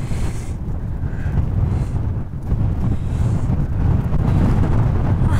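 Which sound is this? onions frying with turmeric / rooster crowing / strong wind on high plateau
strong wind on high plateau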